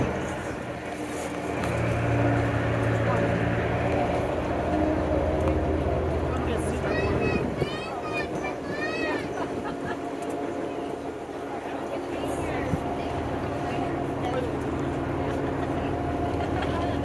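A train rumbles along its rails on a ride in Ghostfield, a steady broad roar with a brief squealing passage midway, while voices come and go over it.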